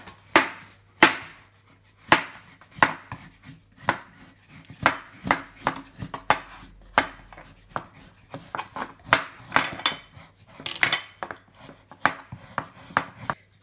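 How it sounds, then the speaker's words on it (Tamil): Jaggery being grated or shaved by hand while making moong dal payasam, a steady run of short, crisp scraping strokes in an irregular rhythm, close and fairly quiet, with no talking. "இப்போ வெல்லத்தை நம்ம சீவிக்கலாம்."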